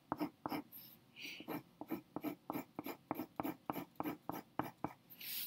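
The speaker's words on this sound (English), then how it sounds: "I'm going to turn my paper a little bit. So I'm going to go this way and crosshatch." Pencil cross-hatching on paper: quiet, rapid rhythmic scratching strokes in a steady series of short bursts, close and soft, with no talking.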